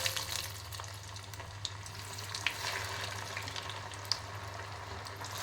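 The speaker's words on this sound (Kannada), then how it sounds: "ನೋಡಿ ಈಗ ಇವನ್ನ ಎಣ್ಣೆ ಕರಿಯೋಣ" Bread rolls deep-fry in hot oil with a constant close sizzle and scattered small pops, over a low steady hum.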